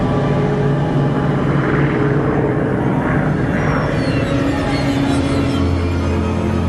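Propeller aircraft engines, Ju-52 transports over a World War II airfield in a video game, a loud steady droning rumble that holds throughout with no talking.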